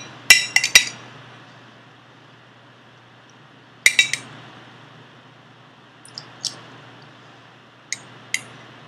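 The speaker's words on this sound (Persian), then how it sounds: "با هم مخلوط میکنیم" Spoon clinking against a dish while lemon juice and other ingredients are mixed for a dough: a quick cluster of sharp taps, a second burst a few seconds later, then scattered lighter clinks, close and with no talking.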